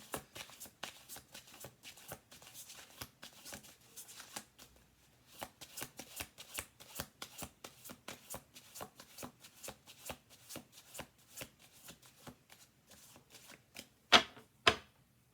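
Tarot cards are shuffled by hand in a long run of quick riffling, flapping strokes that pause briefly midway, then resume, ending with a couple of sharper snaps close up.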